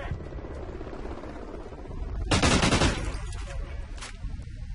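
Light machine gun fire in a competitive shooter video game: a short, dense burst of rapid shots rising over constant game ambience, then dropping back to a busy background with scattered smaller effects.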